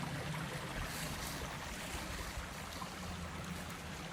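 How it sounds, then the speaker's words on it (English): A pretty creek seen on a backpacking hike flows with a steady, even rush of water, a continuous broadband wash at moderate level with no voices. "This creek is pretty."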